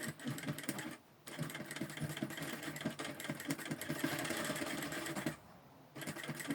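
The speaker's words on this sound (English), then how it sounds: "So you are going to be sewing on that boning gently." A sewing machine stitches fabric along boning for structured sleeves, a close, steady whirring run with brief pauses near the start and end.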